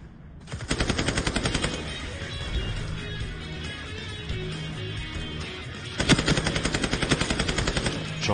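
Rapid machine-gun bursts in a video game, bullets tearing through scenery: a long rattling burst opens, fire continues more loosely, then another sharp sustained burst erupts near the end, loud and close.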